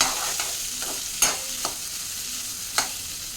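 Sliced onions and garlic fry in hot oil and are stirred in a pan for an ivy gourd curry, a soft continuous sizzle broken by a few distinct spoon scrapes and taps against the pan, no talking.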